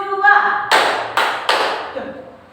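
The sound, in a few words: hand clapping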